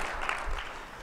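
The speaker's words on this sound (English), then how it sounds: "Oh, okay, a big clap there." Banquet audience clapping in a dense, even burst of applause, moderately loud and close, with no talk over it.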